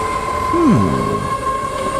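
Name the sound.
train passing in the video game NIMBY Rails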